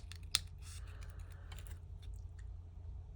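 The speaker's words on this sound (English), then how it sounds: "All I'm doing is letting the scissors do the work" Scissors snip through card in a quiet craft setting, giving a series of faint, crisp clicks and one sharper cut near the start.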